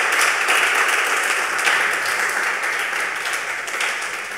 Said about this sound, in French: Nous t'amènons à applaudir Espace des jeunes